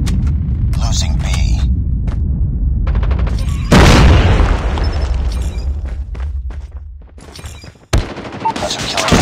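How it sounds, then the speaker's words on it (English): A nuke detonating in the Call of Duty Mobile video game, heard as a loud, sustained roaring blast over dense gunfire and booms, with a game announcer voice speaking over the battle. "Friendly nuke has been launched."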